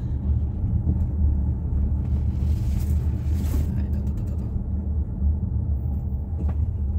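Slow, congested road traffic produces a heavy, continuous low rumble of engines with occasional creaks and mechanical clunks, loud and near, without pause.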